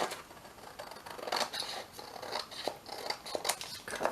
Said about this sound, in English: we can always cut the little white edges off